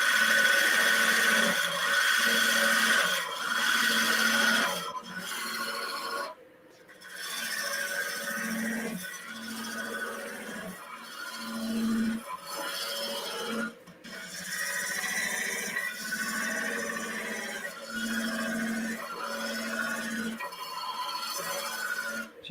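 A woodturning tool takes a fine cut across spinning wood, working from the centre outward, giving a continuous close rasping scrape that swells and eases with brief pauses as the tool moves back and forth.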